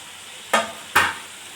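Eggs stirred into sizzling egg curry masala in a pan, with two short, bright scraping and frying bursts about half a second apart over a low steady background, close and moderately loud.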